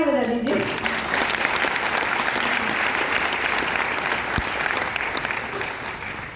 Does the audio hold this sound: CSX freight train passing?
no